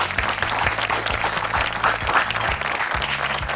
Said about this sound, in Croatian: Mauro u igri, dajte pljesak,